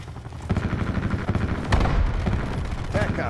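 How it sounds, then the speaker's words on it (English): An attack helicopter in the Black Ops 4 video game, its rotor and weapon fire forming a loud, continuous dense roar with bursts of gunfire-like crackle throughout. "Attack chopper standing by."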